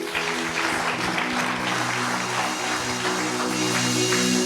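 A church congregation claps and cheers in steady, dense applause that fills the room continuously, with no clear speech over it.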